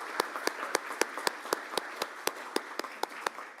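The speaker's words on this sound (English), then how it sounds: "And please give them all a round of applause." Sparse, distinct claps from a small group at a Rotary Club of Tulsa meeting, roughly a dozen sharp hand strikes spaced about a quarter second apart over a quiet room, fairly faint and with no talk.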